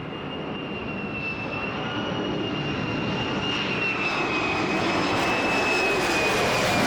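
F-35 fighter jets pass overhead above a Vermont town, a loud, continuous broadband roar that swells steadily across the whole stretch with a thin high whine running through it.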